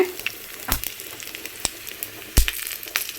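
Garlic tempering sizzles in hot oil on a stove for a potato and masoor dal curry, a low, quiet crackle broken by a few sharp pops and spits, with one loud burst near the end and no speech.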